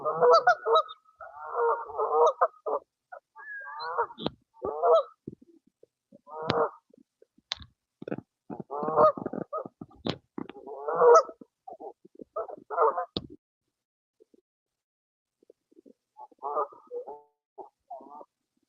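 Geese honk in repeated bursts, several calls overlapping, then a quieter pause before a few more honks near the end.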